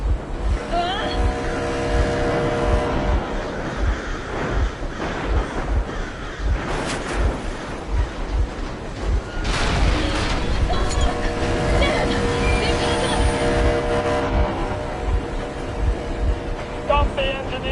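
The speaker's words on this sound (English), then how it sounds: "Stop the engine immediately and come out with your hands above your head." A vehicle engine in the video game Metro Exodus runs with a loud, continuous rough rumble and surging noise, while crows caw and a voice speaks over it.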